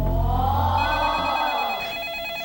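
A telephone rings loudly and up close in a home, one sustained electronic trill that fades slightly toward the end, with no voices.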